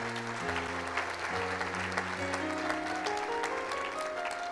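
A church congregation applauding steadily in a large room, dense clapping sustained throughout while organ or keyboard notes rise underneath.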